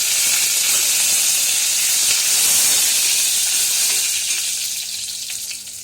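Green and red chilies frying with ginger and garlic in hot oil, a loud, dense hissing sizzle that gradually quiets toward the end.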